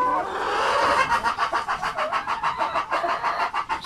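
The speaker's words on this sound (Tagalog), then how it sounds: "mga manok natin doon sa probinsya ng Cebu na naka-free range lang sila" Free-range chickens in a rural yard in Cebu province, Philippines, giving a steady run of rhythmic clucks and calls, fairly close and moderately loud, with no talking over them.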